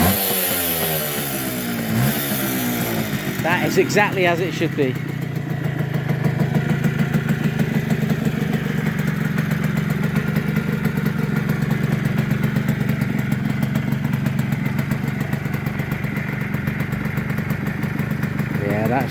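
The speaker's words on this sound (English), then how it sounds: "Listen to this little engine." A classic Yamaha FS1E moped with a small two-stroke engine, freshly restored, idles steadily and close by after a few quick revs at the start, while someone speaks briefly over it.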